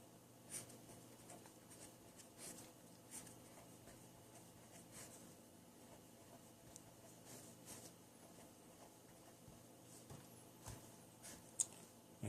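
Faint scratching and tapping of writing on paper or a board during a linear algebra lecture, with soft irregular strokes over quiet room tone and no talk.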